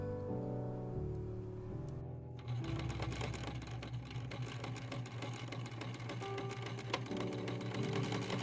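A sewing machine stitches down darts in the bib front of a velvet Bridgerton-style dress, starting softly and then running in a steady, continuous mechanical whir close by, with no one talking.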